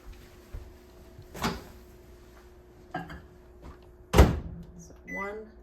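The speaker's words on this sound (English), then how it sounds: "I'm just gonna pop that in the microwave for 1 minute." Meatballs go into a microwave oven: scattered clunks and knocks of a dish being set down and the door closing, with a loud thump near the end followed by a short beeping tone.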